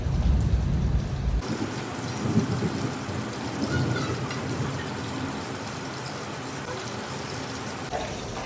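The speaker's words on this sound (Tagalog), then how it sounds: "Mukhang malakas yung bubuhos na ulan." Heavy rain drums steadily with deep thunder rumbling near the start, the downpour holding loud and constant throughout.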